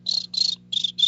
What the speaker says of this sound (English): Need to insert a cricket sound there.